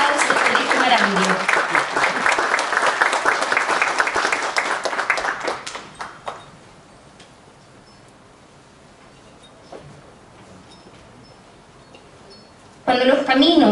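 Spectators clap for the first graduating class of Colegio Marambio at a high school graduation ceremony, a loud dense round that fades out after about six seconds into quiet rustling, then a voice resumes near the end.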